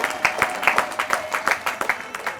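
An audience applauding at a women's association gathering, a steady patter of many hands clapping in quick rhythm, fairly close and continuous for a couple of seconds.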